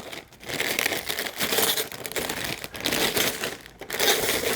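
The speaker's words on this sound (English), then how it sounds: "let's see. Let's get this plastic off." Plastic wrapping is pulled off a Kyosho Chevy C10 Fleetside RC truck body with loud, close crinkling and crackling in repeated bursts and short pauses; no voices are heard.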